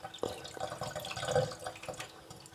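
A tap runs while dirt is washed off potatoes, giving soft splashing and trickling water with small drips and knocks, quiet and close.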